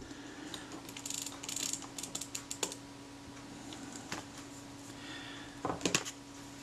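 The film advance lever mechanism of a Kodak Retina camera is worked by hand, giving faint, close clusters of ratcheting clicks and small mechanical snaps, with a sharper burst of clicks near the end.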